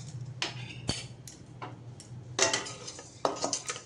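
Sorghum grains dropped a little at a time into a well-heated pan for a sorghum-flour offering, with scattered light clinks and scraping stirs over a low steady hum, no talk.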